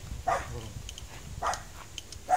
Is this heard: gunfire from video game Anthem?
no